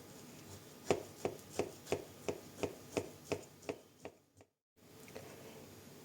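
A knife cutting through a juicy grated-apple cake, about a dozen evenly spaced crisp thuds as the blade strikes the board, close and clear, ending in a brief silence.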